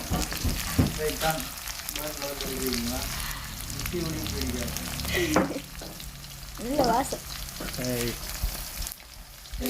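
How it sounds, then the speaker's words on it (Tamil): Potatoes and curry leaves fry in a pan with a loud, continuous sizzle and spatter. Stirring clatters now and then, and people talk over it. "இப்போ வந்து எல்லாம் பொரியுது"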